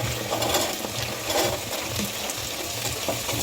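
Chopped beans, carrot and kohlrabi tossed into a pan of frying onions, a close steady sizzle and crackle with some stirring and clatter.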